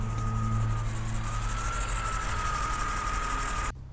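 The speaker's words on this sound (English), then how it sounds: "that hiccuping you could hear in the engine kind of just cleared up also" A BMW engine idles roughly and lumpily with a steady mid-pitched drone and an uneven hiccuping pulse, close and continuous, before cutting off abruptly near the end.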